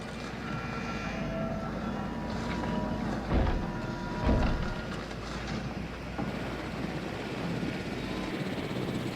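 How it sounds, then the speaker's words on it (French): A helicopter arrives at a base in the video game Jurassic World Evolution, a steady, broad rotor and engine drone throughout with two heavier thumps in the middle and no talking. "Et voilà l'hélicoptère. On arrive tout juste."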